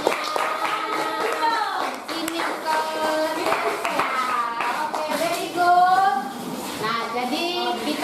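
Students in a classroom clap for a group, a loose burst of hand claps mixed with children's voices and chatter, close and fairly loud throughout the eight seconds.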